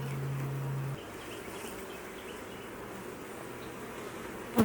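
Honey bees buzz softly around an open hive during an inspection on a hot day, a faint steady drone with a low hum at the start and a brief knock at the end.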